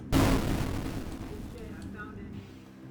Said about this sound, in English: Whoa, that was a big explosion.